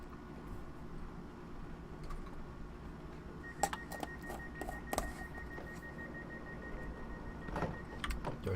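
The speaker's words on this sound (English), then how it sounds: "Doors are closing." Train doors closing on a North London Line train in Train Simulator 2017, with a steady tone sounding over the cab rumble and a few sharp clunks as the doors shut.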